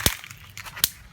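Two sharp, isolated snapping cracks from an electric fence energizer sparking, one near the start and another about a second later, with faint background hiss between them.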